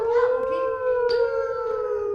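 Children's voices imitate a fire truck siren with a long, sustained wailing "ooh" that slowly falls in pitch.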